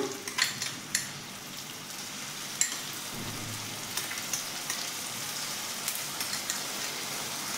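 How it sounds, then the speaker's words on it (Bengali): Masala of spices and sour yogurt for capsicum paneer frying in a pan, with a steady crackling sizzle and occasional sharp pops and spoon clinks close up. "দিয়ে মশলাটা ভালো করে কষে নেব"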